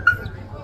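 A dog gives one brief, high whimper, followed by a faint low rumble of background noise.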